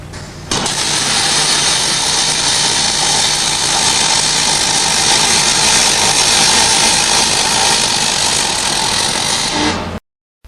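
MIG welding of aluminium with a torch, a steady loud crackling buzz that runs without a break for about nine seconds, then stops abruptly.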